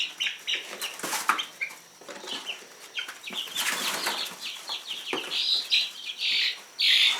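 Baby chicks in a new predator-proof chicken coop scratch and flap among wood chips in quick fluttering bursts, mixed with high peeping chirps and soft clucks, all close and busy.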